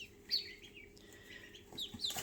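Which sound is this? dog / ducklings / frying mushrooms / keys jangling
ducklings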